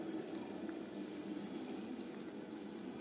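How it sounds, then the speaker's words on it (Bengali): Boiling hot water is poured over salted, cut cabbage, a faint steady watery rush and hiss with no break, quiet and close, without talk. "দিয়ে দেবো ওপর থেকে ফুটন্ত গরম জল।"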